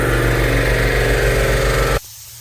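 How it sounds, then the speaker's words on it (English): An air compressor runs loud and close with a steady, throbbing motor drone, then cuts off abruptly partway through, leaving only a faint low hum behind. "My air compressor interrupted"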